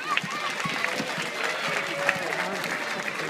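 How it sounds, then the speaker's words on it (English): A crowd at a wildlife park's 30th birthday party applauds to welcome the park director, steady clapping that runs throughout with a faint voice underneath. "So give a big round of applause."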